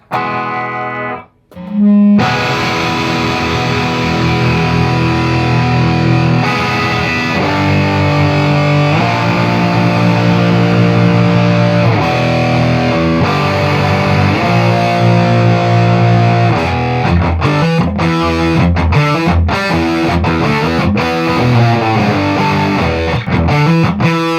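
A loud, heavily distorted electric guitar through an amp driving three speaker cabinets at once plays sustained chords and riffs, thick and saturated, filling the space after a brief pause at the start.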